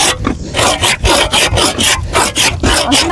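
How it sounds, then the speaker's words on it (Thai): A hand saw cuts through green wood in quick, regular back-and-forth strokes, close and loud, about three strokes per second. "ตัดไม้ดิบแท้ๆนี่เลื่อยได้เป็นเลื่อยตัดไม้"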